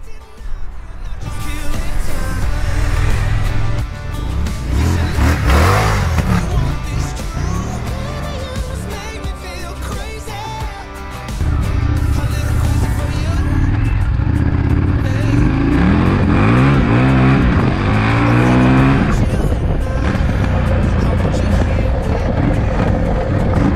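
An Indian FTR 1200 V-twin motorcycle engine roars loudly throughout, rising and falling in pitch as it revs hard, with a steady rumble in between.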